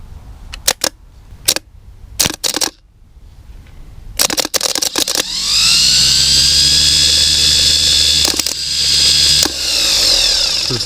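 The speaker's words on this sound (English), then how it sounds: "So the starter works." Starter motor on a 1967 Pontiac Grand Prix: a few short clicks and bursts, then a sustained loud whirring crank with a high whine, briefly interrupted twice, close up.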